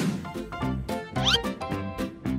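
A young cat gives a rapid series of short, close meows and mews in quick succession, fairly loud and alone with no talking over them.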